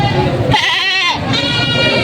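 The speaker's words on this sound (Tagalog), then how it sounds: "balbo na kambing" Goats bleat loudly at a livestock market in Padre Garcia, Batangas, with one long wavering cry in the middle and a voice talking alongside.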